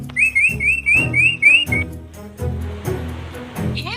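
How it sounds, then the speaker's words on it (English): Canary song: a quick series of rising whistled notes repeated six times in rhythm, then fading into a busier mix of lower sounds, loud and close. "Canary."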